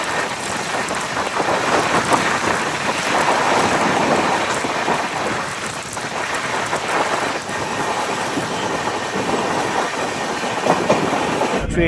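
Howrah–Digha passenger train running at around 110 km/h, with a loud, steady rumble and rattle of wheels and carriages continuing throughout, no talk.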